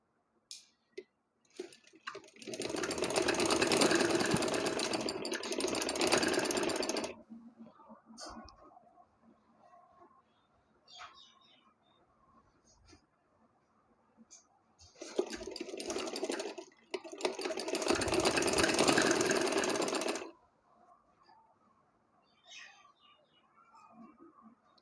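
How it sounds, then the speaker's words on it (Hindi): A sewing machine stitching center lace onto a cut-work sleeve, two long rapid whirring runs of the needle separated by a quiet pause with faint handling sounds, close and fairly loud. "तो पूरी स्टिचिंग कर लें जहाँ तक आपकी सेंटर लेस है"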